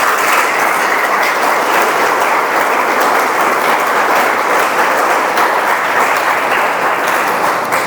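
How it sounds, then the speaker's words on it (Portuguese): A church congregation bursts into loud, sustained applause at a Brazilian Pentecostal-style sermon, a dense wash of clapping that fills the space steadily without pause from start to finish. "você pode aplaudir Jesus por isso?"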